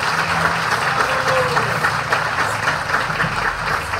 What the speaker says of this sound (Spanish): Un aplauso a ellos que están en asamblea.